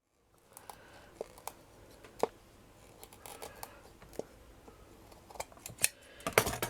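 Scissors trim a fabric bracelet pincushion, quiet crisp snips scattered irregularly, close and soft, a few sharper cuts near the end.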